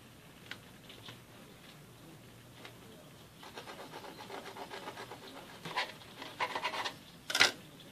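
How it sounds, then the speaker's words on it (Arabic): A knife saws through a soft mini brioche with faint, close rasping strokes that grow a little louder and more textured toward the end, over a quiet room background. "نقطع لكم وحده تشوفوها"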